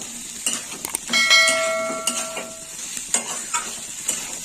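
Boiled green peas being stirred and sautéed in a hot pan for a khoya kheer and pea dish, with soft sizzling, a few sharp utensil clinks and a ringing metallic tone from the pan.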